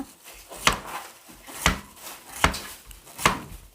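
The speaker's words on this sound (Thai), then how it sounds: "เราหั่นให้ดูตามนี้ก่อนนะคะ" A knife chops pumpkin on a cutting board in four evenly spaced, crisp thuds, close and clear with no talking.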